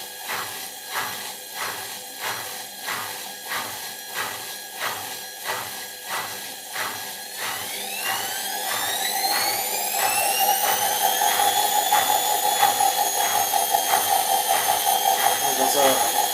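A Beko EcoCare WM1512S washing machine drum starts a quick spin: rhythmic tumbling thumps at first, then a rising whine as the motor speeds up into a steady high hum.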